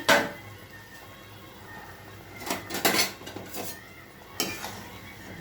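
A metal pot lid lifted and set back while shrimp go into a cooking pot with gathi kochu: close clanks and clattering scrapes in the middle of the clip, plus a sharp clink near the end over a quiet kitchen background.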